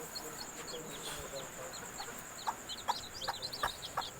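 Malaysian Serama chickens cluck softly with a mother hen and her chicks, a run of short, faint peeps and clucks building near the end over a steady background hum.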